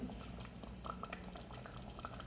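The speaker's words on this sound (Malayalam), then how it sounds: "സ്റ്റവ് ഓഫ് ചെയ്ത് മൺചട്ടിയിലായിട്ട് തിളക്കുന്നതാണ്." A tomato chutney curry simmers in a clay pot with the stove switched off, giving faint, continuous soft bubbling and small pops.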